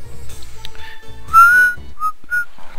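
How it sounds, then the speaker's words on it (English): A whistle sounds outdoors near a museum: a short rising shrill tone, then two brief chirps over a low background of murmuring voices. "The whistle."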